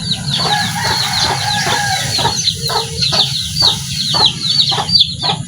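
Rhode Island Red hens clucking in a farmyard by the sea, repeated short clucks and soft calls over a steady low background rumble, fairly close.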